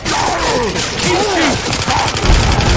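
Rapid gunfire bursts from a survival round of Left 4 Dead 2 in a cemetery, loud and dense, with a fighter's voice crying out over the shooting and chaotic in-game combat noise.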